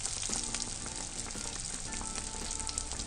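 Three belyashi meat pastries frying in hot oil in a 24 cm pan, a dense, continuous crackling sizzle with fine popping, steady and close, with no talking.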